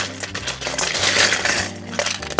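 Pebble ice tumbling into a footed Collins glass at a bar, a dense, close rattle and clatter of small cubes filling the glass over a couple of seconds.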